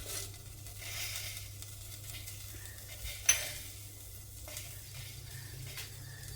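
Garlic, green chillies and curry leaves sizzling in hot tempering oil for a tomato rasam, a low steady frying hiss with a sharp clink of a utensil midway, fairly faint and with no talking.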